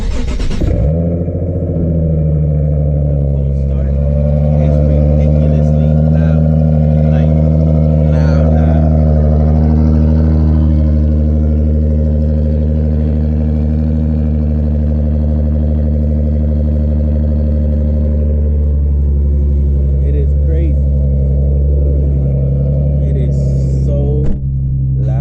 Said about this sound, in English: I'm gonna show you guys a cold start of my 370Z, so you guys can hear how it sounds.